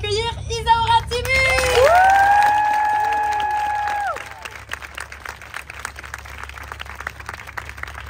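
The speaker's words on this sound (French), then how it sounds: "Je demande un tonnerre d'applaudissements" Applause and cheering from a crowd, a sustained wash of clapping under a long rising shout, then scattered claps continuing.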